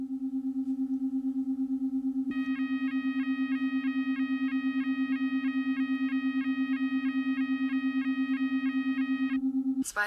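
A telephone rings for a call in a German science-fiction radio drama: a rapid, evenly pulsed electronic trill repeats for about seven seconds over a steady low hum, then stops abruptly.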